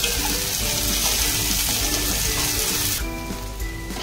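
Chopped medium tomato sautéed with onion in a pan for chapati chivda, a loud dense sizzle that drops off sharply after about three seconds to a quieter simmer, close by and with no talking.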